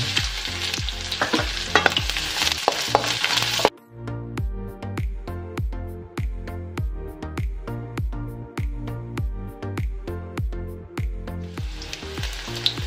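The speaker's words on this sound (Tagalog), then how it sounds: "Tapos, isunod natin ilagay ang bawang." Garlic hitting hot oil in a home kitchen pan for chicken binakol, a loud steady sizzle that drops briefly, then continues with rhythmic stirring and scraping strokes, with the frying noise swelling again near the end.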